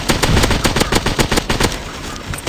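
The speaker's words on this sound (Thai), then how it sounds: "ถึงแม้ว่ากระสุน AK เราจะหมดเราก็ใช้ปืนอตได้นะ" AK rifle fire in a military shooter video game: rapid automatic bursts, loud and close, crackling in a fast steady rhythm almost without pause.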